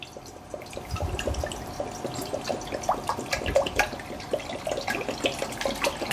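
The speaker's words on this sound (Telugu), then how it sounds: "అందులో ఇలా 750 ml వాటర్ అయితే పోస్తున్నాను నేను." Roughly 750 ml of water poured from a bottle into a plain kadai, a steady splashing, gurgling stream that runs close and continuous with no talk.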